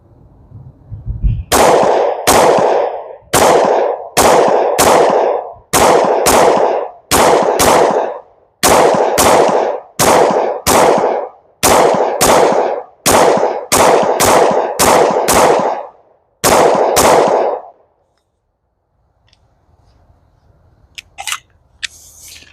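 A 10mm pistol firing CCI Blazer aluminum-case ammunition outdoors: about nineteen loud, sharp shots in a quick, slightly uneven rhythm, then quiet with faint handling clicks at the end.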